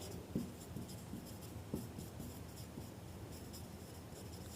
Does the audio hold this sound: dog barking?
no